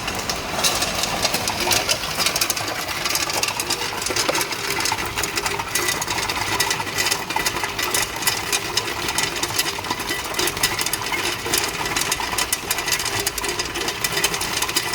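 A one-ton-per-day tube ice machine runs on single-phase power with a steady, dense mechanical hum and rapid chatter. The sound holds even and continuous throughout, and no voices are heard.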